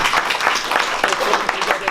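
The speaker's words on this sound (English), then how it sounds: "Clap." Audience clapping at a self-publishing event: a dense crowd patter running steadily for about two seconds, mixed with some talk.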